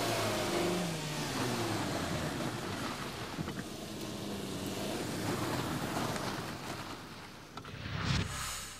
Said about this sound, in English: he'd better get to grips with how his car performs on ice